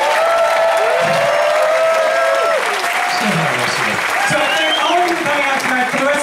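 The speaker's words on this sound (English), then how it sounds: "let's give a big round of applause to Miss Detox" Audience applause and cheers at a drag show, sustained and loud throughout, with whoops and voices shouting over the dense clapping.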